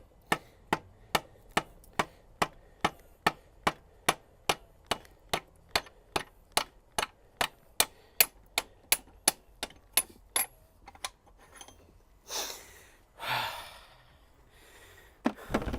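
An Allen key used as a drift is tapped against the stand of a Honda VFR800 motorcycle, giving a steady series of about two dozen crisp metallic taps at an even rhythm, followed by breathy rustling noises after the taps stop.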